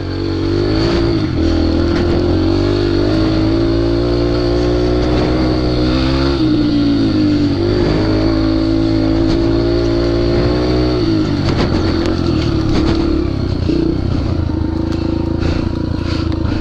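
A pit bike engine revs hard and steadily while being ridden through jungle trails in low gears, its loud buzzing drone rising and falling with throttle changes and shifts, close to the microphone with no talking.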